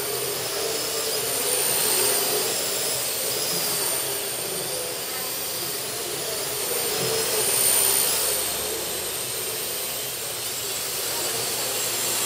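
A Parrot AR.Drone 2.0 Power Edition quadcopter flies with a steady, loud, whirring rotor whine and hiss, swelling gently as it moves through flips and spins, with no talk.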